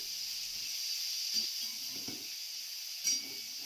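Potatoes and green peas frying in oil in a wok, a steady soft sizzling hiss throughout, with a few brief crackles and stirring bumps, close and fairly quiet, no voices.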